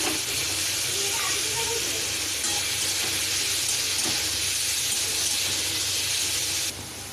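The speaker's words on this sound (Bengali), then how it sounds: "নুন হলুদ মাখানো চিংড়ি মাছগুলো ভেজে নেব, কড়াতে দিয়ে দিলাম" Shrimp coated in salt and turmeric fry in a wok with a loud, continuous hissing sizzle close by that holds steady throughout.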